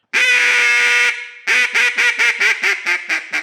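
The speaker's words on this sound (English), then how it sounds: "If a greeting of a duck is a sequence of quacks starting at the top of the scale, going to the bottom" A hand-blown duck call sounds one long held note, then a rhythmic string of about eight loud, close, nasal quacks that step down the scale.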